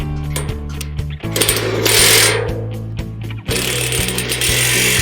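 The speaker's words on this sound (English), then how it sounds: "Install the upper corner screws and tighten them." Fixing screws being tightened with a power driver on a flatpack steel house frame: loud rapid ratcheting mechanical buzz in bursts, with a high whine and brief pauses between runs.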